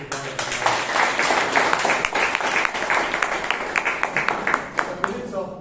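Clapping from attendees at a Bangalore Toastmasters Club meeting, a lively round of applause with distinct individual claps standing out over a steady patter, with some talk underneath.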